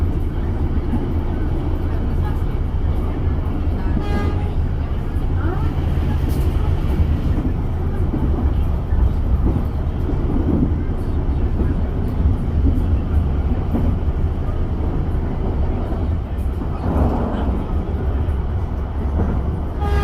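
Riding aboard the KRL Commuter Line Blorasura train from Bojonegoro to Benowo: a steady, close, low rumble of the moving carriage with constant rolling noise throughout and no clear talking.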